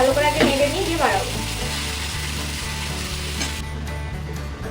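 Food sizzles and fries in a pan on a gas flame, a loud steady crackling hiss with rhythmic scraping stirs throughout, close up.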